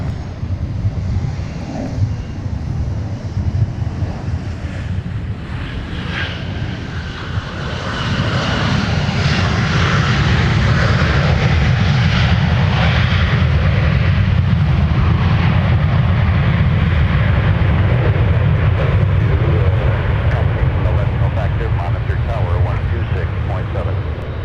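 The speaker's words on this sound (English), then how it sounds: "Southwest coming in with the stubby 737-700 from Dallas Love Field, flight 989." Southwest Airlines Boeing 737-700 jet arriving at Minneapolis–St. Paul airport, a steady broadband engine roar that swells and stays loud, with tower radio talk heard over it.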